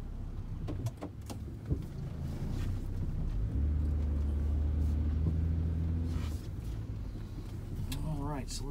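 Inside a 2006 Buick Rendezvous cruising at about 55 mph, a steady low road rumble and engine drone fill the cabin while someone talks over it.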